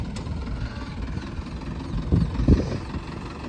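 An old 1970-model tractor engine, started after standing idle for two years, chugs at a low steady idle with a few louder knocking thumps near the end, no voices heard.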